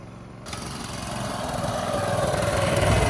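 A 6.5 hp Honda gas engine on a friction-drive bicycle fires up after a push start and keeps running with a steady buzzing drone that grows slightly louder, heard up close.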